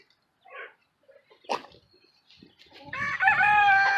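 A Barred Rock chicken clucks and squawks in short bursts, building into a louder, drawn-out cackle, close by with quiet gaps between calls.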